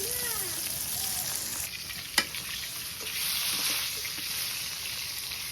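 Fish fries in a pan in a village kitchen with a soft, steady sizzle and faint bubbling. The sound sits at a moderate distance, a single sharp clatter breaks in once, and a faint whistle-like tone appears early.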